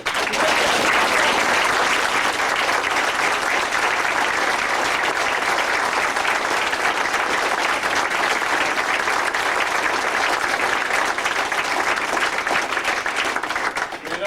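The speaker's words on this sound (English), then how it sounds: "please give a rousing round of applause to the next President of the United States" An audience at a fall 2003 Iowa presidential campaign event applauds, a dense, loud and sustained roar of clapping that carries on for the whole stretch with only faint crowd noise underneath.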